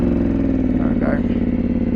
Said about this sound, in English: Getting a bit cold. Doesn't want to start.